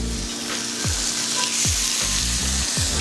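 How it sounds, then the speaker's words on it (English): Lamb chops sear in hot oil in a pan with a loud, steady sizzle, broken by repeated sharp clatters and scrapes of the pan, no voices. "put these in there and start searing them right now"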